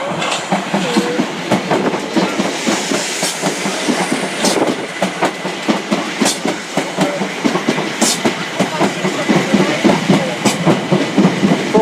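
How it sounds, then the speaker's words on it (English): A Class 456 electric train runs into Clapham Junction station on its way from London Waterloo to Hampton Court. Steady rhythmic clickety-clack from the wheels over the rail joints is loud and close, with occasional sharper clanks. "approaching Clapham Junction now is a 456, which is off to Hampton Court from London Waterloo"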